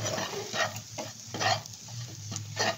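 Flour stirred into melted butter in a pan makes a soft sizzle with several distinct scraping strokes of the spoon, close and fairly quiet over a low steady hum.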